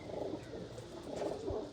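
A female pigeon held in the hand gives soft, low murmuring coos, faint and close, in a few short bursts.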